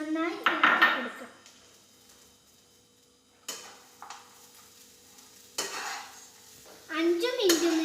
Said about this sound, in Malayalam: അടുത്തതായി ഉണ്ടശർക്കര നമുക്കിടാം. നന്നായി ഇളക്കി കൊടുക്കാം.